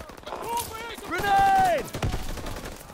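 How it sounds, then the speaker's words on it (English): Call of Duty WWII gunfire cracks in quick bursts during a wartime firefight, partly masked by loud shouting voices over the shots. "Getting shot at. I'm getting hit."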